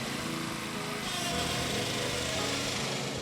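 Greens roller rolling a golf putting green at Inverness Club, a steady close engine drone with a rumbling low end, continuous and fairly loud.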